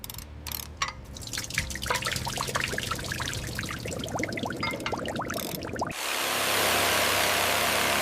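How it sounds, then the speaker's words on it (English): Water pours and drips from the axles of an old police car hauled out of a swamp after forty years, a steady close trickle and splatter that gives way to a louder, broader rush of draining water. "Here comes the water from the axles."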